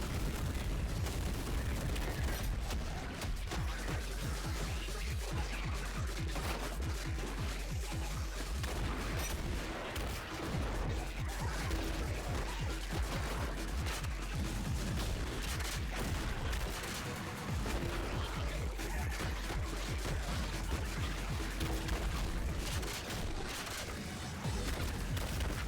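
Assault rifle fire in a video game, dense rapid bursts of shots and booms continuing almost without pause, loud and chaotic throughout.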